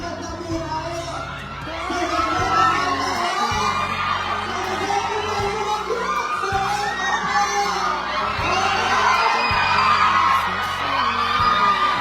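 Fans scream and cheer nonstop at a movie premiere night for Hello, Love, Again, a loud, dense roar of high shrieks and yells that stays steady throughout.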